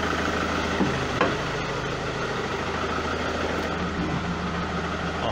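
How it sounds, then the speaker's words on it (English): A 2007 Ford Mondeo 2.0 TDCi diesel, being diagnosed for excessive smoke, runs with a steady low idle rumble and only a slight lift in revs, heard close with no talking. "And then when we rev it"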